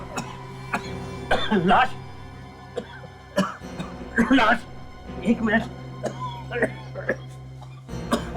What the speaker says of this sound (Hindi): सांप का टुकड़ा देखकर इतनी खांसी?